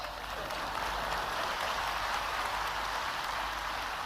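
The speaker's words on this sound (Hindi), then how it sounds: "तो इस पे ताली बजाना तो जोर से बजाओ।" Loud, dense applause from a large audience at the closing of the Global Investors Summit in Indore, a steady wash of clapping that holds evenly for about four seconds with no talk over it.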